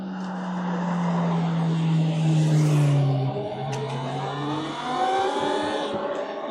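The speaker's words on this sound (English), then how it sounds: "Let's wait till this car passes." A car passes on a road beside a stopped electric motorcycle. Its engine tone swells loudly, then slides downward as it goes by, and a softer whooshing trails off afterward.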